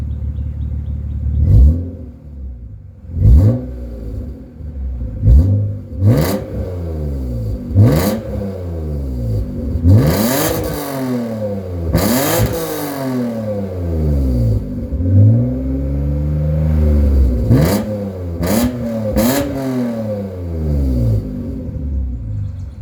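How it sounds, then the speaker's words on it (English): A 1999 BMW M Roadster with a Turner Performance exhaust, engine warmed up, revved repeatedly from idle: about a dozen loud, close blips that rise and fall, some held longer, with the exhaust rumbling between them. "it's actually up to temperature, so I'm gonna give it some revs"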